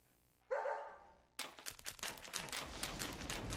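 A dog in the video game Deadly Premonition gives a single short bark or yelp, followed by a burst of rapid, rustling movement noise that continues to the end.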